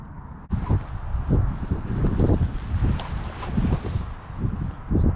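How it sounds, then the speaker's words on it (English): Strong wind gusts buffet the microphone outdoors during winter fly fishing on a river, roaring and fluctuating throughout, loud and close, with no voices. "The wind is kind of messing us up a little bit."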